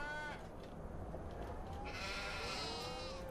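Sheep bleat repeatedly in Farming Simulator 25, several overlapping calls rising and falling over a steady bed of ambient farm noise.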